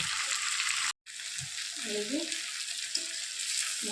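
Spices and ingredients being dry-fried down (kashano) in a pan give a steady broadband sizzle, broken by a brief silent gap near the start, with a few faint tonal scrapes and knocks underneath.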